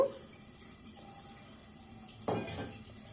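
Water is poured into a pan of dry-roasted poppy seeds and melon seeds, a short splashing gush near the end following a quiet kitchen stretch with a faint clink.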